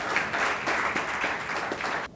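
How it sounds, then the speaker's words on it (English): An audience in a conference room gives a round of applause for speaker Agnelo Rajesh Athaide, a loud, steady burst of many hands clapping close by that cuts off abruptly at the end. "So please give a huge round of applause to Mr."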